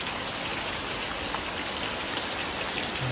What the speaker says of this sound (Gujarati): મસ્ત ધીમી ધારે વરસાદ પડે છે